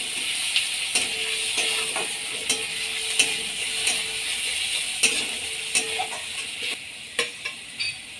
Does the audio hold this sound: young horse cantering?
no